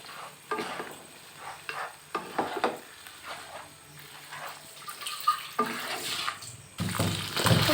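Fried fish pieces and a fish head are stirred into spice masala in a pan, with irregular scraping strokes over a sizzle that grows louder, wetter and more bubbling near the end, and no one talking.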